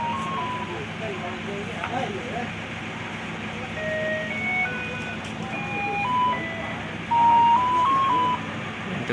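An intercity bus on the West Sumatra to Jakarta route pulls in, sounding a melodic multi-note horn in short rising and falling phrases over a steady rumble of engines and crowd voices at a busy departure point.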